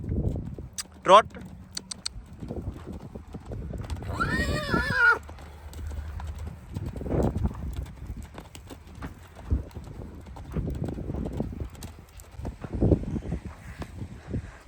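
A horse trots on the ground with steady, rhythmic hoofbeats. A loud whinny breaks in early, and a handler's voice speaks over the sound.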